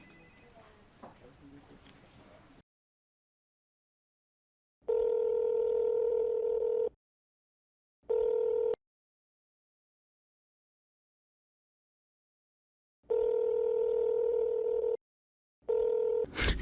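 A phone call rings out as a steady telephone tone in repeated on-off blocks of about two seconds, with short pauses between them and a little faint background sound before the first one.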